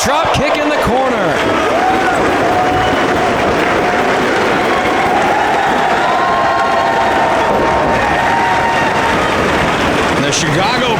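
A wrestling crowd in Chicago cheers loudly and continuously during a ladder and chair match, with roaring shouts and cheers filling the whole stretch and a commentator talking over it.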